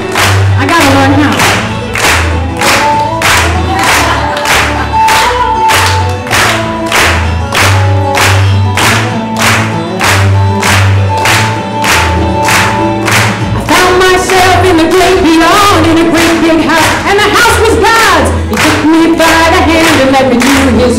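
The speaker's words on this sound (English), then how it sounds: "Okay, why don't we clap?" A church congregation claps steadily in time, the even beat blending with loud accompanying music that fills the room throughout.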